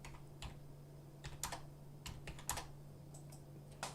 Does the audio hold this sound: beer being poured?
no